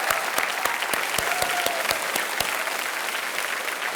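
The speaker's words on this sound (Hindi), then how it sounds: "एक बार फिर तालियों के साथ इनका हम स्वागत करते हैं।" A studio audience on the KBC quiz show set claps together in dense, sustained applause, with a few sharp individual claps standing out near the start before it settles into an even wash of clapping.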